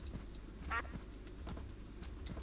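A single short duck quack in a Minecraft game, brief and moderately clear over low background game ambience, with no talking.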